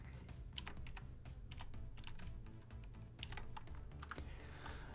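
Fast typing on a computer keyboard while writing HTML code, with rapid, uneven key clicks close up over a steady low background hum.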